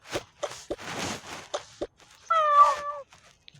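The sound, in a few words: cat meowing in Toca Boca video game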